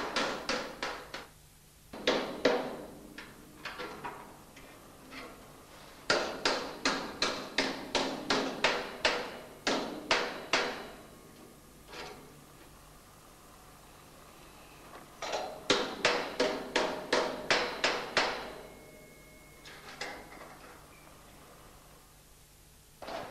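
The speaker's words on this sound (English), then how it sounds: "I'm going to use what you've probably got, an ordinary ball peen hammer." Bursts of rapid, evenly spaced metallic taps from a ball peen hammer striking metal, coming in several runs separated by short pauses, close and crisp.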